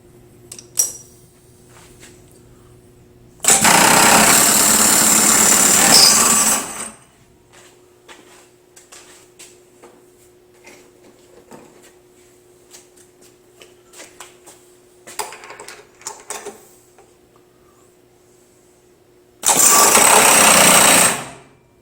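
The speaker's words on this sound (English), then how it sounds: "I'm going to put the carbide cutter aside and I'm going to go right back to the end mill." A manual milling machine cuts with an end mill in a shop, giving two loud, steady bursts of dense grinding and whirring a few seconds long, with quieter ticks, clicks and a low motor hum between them.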